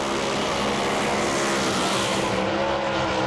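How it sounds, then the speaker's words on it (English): A Pro Mod Camaro at a British drag racing championship revs hard and loud as its rear wheels lock up after the burnout, a steady dense roar with tire squeal and no pauses. "Jean again locking up the rear wheels after the burnout"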